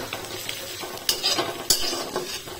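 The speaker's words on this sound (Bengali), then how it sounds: "চলছে পেঁয়াজ ভাজা" Salted onions for a chicken curry fry in a pan while a spatula stirs and scrapes them. Close sizzling runs under two sharper clanks of utensil against the pan, with no talking.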